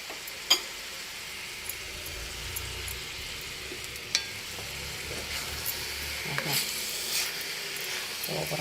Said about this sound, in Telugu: ఇప్పుడు ప్రాన్స్ వేసుకుందాం. తోటకూర మగ్గిపోయింది.